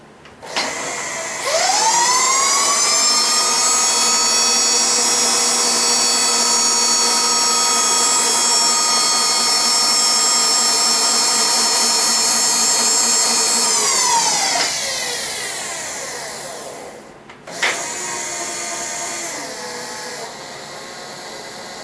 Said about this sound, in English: Got a little fly cutter setting in my R8 spindle.